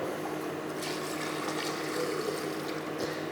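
Alcohol pours steadily into the boiler of a still already loaded with aromatic herbs, a continuous close liquid rush and trickle without pauses.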